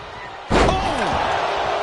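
Wrestling cutter slam in WWE 2K25, one sudden loud impact thud bursting out of steady arena crowd noise, with a commentator's voice underneath.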